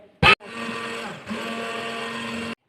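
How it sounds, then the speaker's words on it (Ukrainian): An immersion blender whips egg white with a pinch of salt into foam, starting with a short loud burst, then a steady close whirring hum that briefly dips and resumes. "Додаємо невелику щепотку солі так? і збиваємо до утворення піни, використовуючи погружний блендер."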